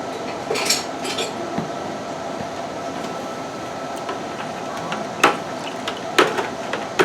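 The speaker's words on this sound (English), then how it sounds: "we are stirring in 8 pounds of sugar" Sugar being stirred into muscadine wine must in a large container, with continuous scraping and sloshing plus occasional sharp clinks and knocks of the stirring tool against the side.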